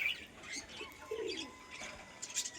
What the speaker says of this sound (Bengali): পায়রাটা পায়রার সাথে এসে উঠছে